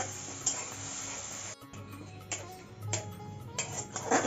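Tomato paste being fried and stirred in a pan while cooking matar paneer, with a steady sizzle broken by light clinks and scrapes of a spoon against the pan.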